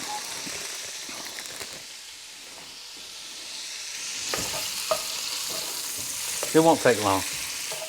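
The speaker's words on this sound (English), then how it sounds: "we're gonna brown this sausage as the first step" Smoked sausage browning in a thin layer of vegetable oil in a black iron pot makes a steady crackling sizzle with stirring clatter, swelling louder near the end as someone speaks briefly over it.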